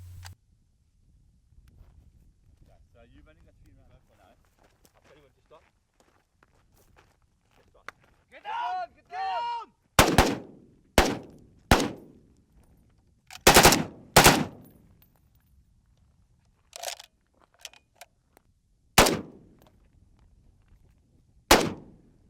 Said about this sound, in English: Having taken turns shooting individually, the boys now practice shooting in tandem.